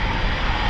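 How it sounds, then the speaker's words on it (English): A Eurofighter Typhoon FGR4 jet on a performance takeoff gives a loud, continuous, dense engine roar, heard in a brief burst. "let's welcome back the performance takeoff Typhoon"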